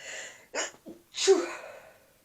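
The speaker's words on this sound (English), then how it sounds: "I've got to sneeze." A single close sneeze, preceded by a couple of sharp inhaling breaths, then fading out; no speech.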